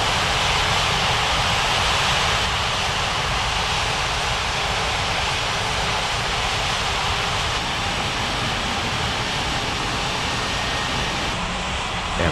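A jet airliner taxis in an air traffic control game, giving off a dense, continuous roar of engine noise that stays loud and steady the whole time.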